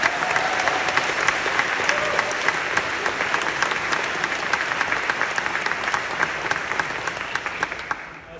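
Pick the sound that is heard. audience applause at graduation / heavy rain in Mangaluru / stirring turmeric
audience applause at graduation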